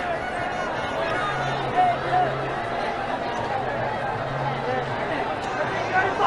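A huge crowd of protesters in London creates a steady wash of distant murmuring and babble, with faint laughter and a low rumble beneath, fairly quiet and continuous.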